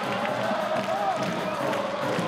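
Stadium crowd at a K League 1 football match between Gwangju and Jeju, cheering and clapping as a steady, dense roar under a commentator's voice.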